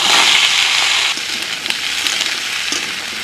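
Stalks and potatoes dropped into a little hot oil give a loud, steady hiss that eases after a second into a softer, even sizzle with a few crackles, with no voices.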